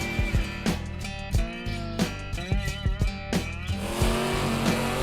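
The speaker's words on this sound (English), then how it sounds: "Tractor pulling." Pro stock tractor pulling engines at a Chandler, Arizona pull, roaring loud and close with repeated sharp revs and pitch sweeps, their gritty, turbocharged-sounding blare rising and falling throughout.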